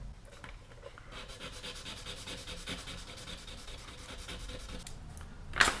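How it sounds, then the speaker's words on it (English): Steady rubbing and scraping of small trigger parts from a Beeman P17 air pistol being polished by hand, a continuous close friction sound ending in a brief sharper scrape, with no speech. "we're going to polish these edges a little bit"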